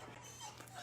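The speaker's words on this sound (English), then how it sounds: "Our dog is whimpering." A pet dog whimpers softly indoors in a short, faint burst of high thin whining over a low steady hum, with no one talking.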